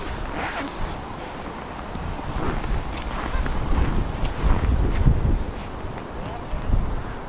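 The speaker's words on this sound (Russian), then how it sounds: "Тут не сколько мороз, сколько ветер очень сильный, холодный, пронизывающий" Strong cold wind in Kazan roars and gusts against the microphone, a steady broadband rush that swells in the middle and stays loud throughout.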